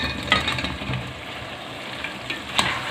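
Koftas cooking with softened tomatoes in a pan for chicken kofta biryani, a steady low sizzle and bubbling simmer running throughout with a few brief clinks or stirs, close and moderately quiet.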